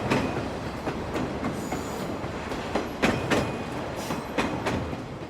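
A China-Europe Railway Express cargo train rolls along the rails with steady rumble and repeated clickety-clack wheel beats, the loud, close rhythmic clatter coming at uneven intervals without talk.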